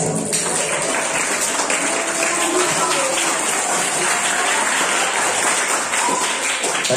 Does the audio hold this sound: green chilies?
no